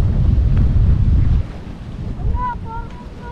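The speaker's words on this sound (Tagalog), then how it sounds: "Lakas-lakas ang hangin dito." Loud, strong wind at Laguna Bay buffeting the microphone with a deep rumble that eases after the first second or so, leaving gentler gusts and faint background sounds.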